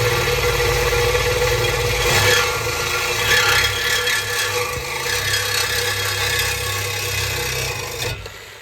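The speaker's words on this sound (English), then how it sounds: "All right, I'm gonna get the sawzall." A Sawzall reciprocating saw cuts through the exhaust pipe of a 2V Mustang, a loud, continuous buzzing rasp that runs steadily for several seconds before cutting off abruptly.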